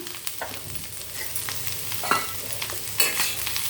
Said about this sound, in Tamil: ஏன்னா கடாயில் சூடு இருக்கு இல்லையா, அதிலே கொஞ்சம் பரட்டி போட்டால் பச்சை வாசனைலாம் போகும்.